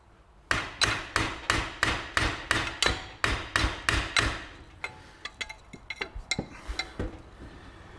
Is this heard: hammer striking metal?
yes